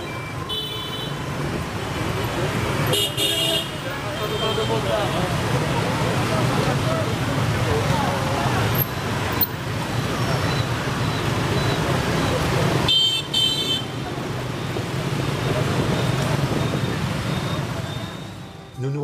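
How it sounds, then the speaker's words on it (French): Busy 7:30 a.m. street traffic in Saigon, Vietnam: a dense, steady roar of motorbikes with occasional car horn honks rising above the continuous din. "Notre attention est attirée par la circulation matinale à 7h30 du matin, avec son flot impressionnant de 2 roues."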